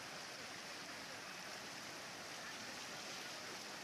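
Floodwater after heavy rain in Maharashtra rushes fast through streets and into homes, a steady broadband roar of flowing water, constant and moderately distant, with no voices over it.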